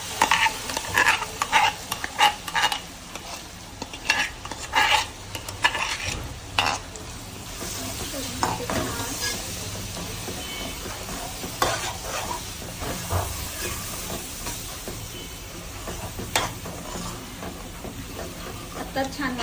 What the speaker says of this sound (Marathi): हे आता हे जे आहे वाटण ते छान शिजू द्यायचं आहे. तेलामध्ये छान परतवायचं याला.